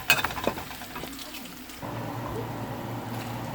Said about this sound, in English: So I'm going to fry it with the onions right now.